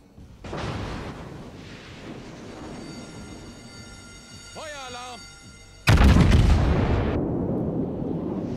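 Heavy naval guns of the battleship Yamato fire in the video game World of Warships, deep booming blasts with a long rumbling tail, the loudest salvo landing near the end over a steady engine-like drone.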